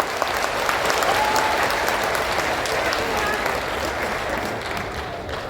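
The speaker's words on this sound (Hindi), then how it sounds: "एक जोरदार तालियां सारे लोगों के लिए।" Loud, sustained applause from a large crowd, dense clapping continuing without pause throughout.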